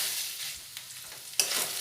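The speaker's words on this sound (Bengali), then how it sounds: "ভালো করে চিকেনটা নাড়াচাড়া করা হয়ে গেছে" Chicken stirred in a hot pan while cooking for chicken chowmein, a steady close sizzle of frying with soft scraping strokes and a sharper clatter of the spatula near the end.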